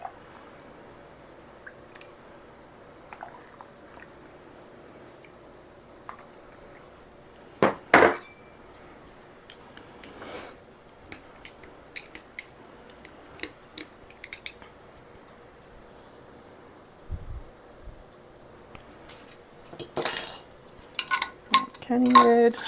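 Canning lids and glass jars handled for a new electric pressure canner, with scattered light metallic clicks and clinks, a few sharper glassy knocks and a busier cluster of clattering near the end, all without speech.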